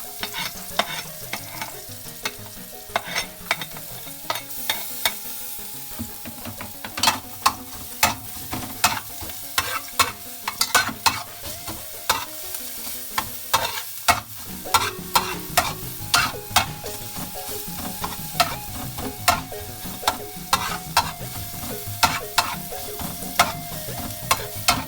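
Garlic frying in a pan for pinakbet, with a steady sizzle under constant rapid scraping and clacking of a spatula stirring against the metal, close and busy throughout.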